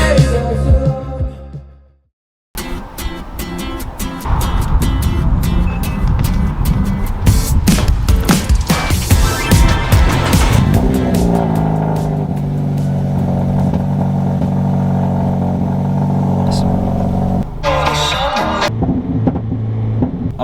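A car drives along a road with loud, continuous engine and road noise, rising and shifting as it accelerates, with clattering and a brief drop to near silence early on.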